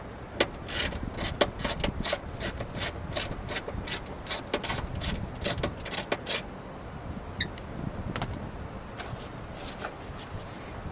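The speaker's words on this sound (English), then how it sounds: "this is a 14 millimeter, and I'm just going to" Ratchet backing out a 14 millimeter seatbelt bolt inside a car, with quick bursts of sharp clicking strokes repeating in a steady rhythm, close up and fairly loud, then a few sparse clicks as it loosens.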